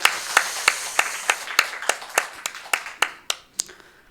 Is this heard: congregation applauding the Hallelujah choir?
yes